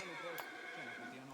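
A horse in the video game Mafia: The Old Country gives a short neigh with hoof clip-clops, set against background game ambience and faint voices.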